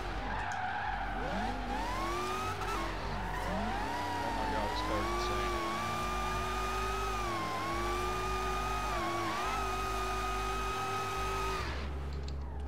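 An HSV GTSR engine screams at high revs in Forza Horizon 3, a loud continuous whine with pitch sweeping up and down through gear changes and tire skids, steady and close for the whole stretch.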